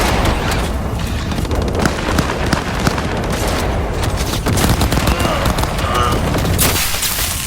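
Loud, dense gunfire fills a Cyberpunk 2077 firefight on PS4, with rapid overlapping bursts and heavy booms running continuously without a pause.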